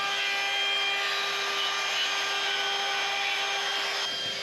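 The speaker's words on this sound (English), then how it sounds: "Just beveling the edge of the hole and the little bolt holes." A power tool whines steadily and continuously up close as it bevels the edge of a portlight hole in a liveaboard boat's hull, a high buzzing tone with no pauses.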